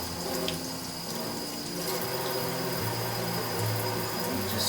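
Homegrown grapes rinsed under a running tap, a steady close hiss and splash of flowing water lasting throughout without pause.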